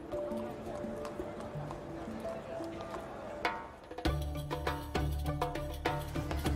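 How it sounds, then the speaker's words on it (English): Pack horses carrying goods on a car-free Greek island clop along with irregular hoof strikes, faint at first and then closer and louder, over steady ambient noise and a low hum. "pack horses move the majority of goods"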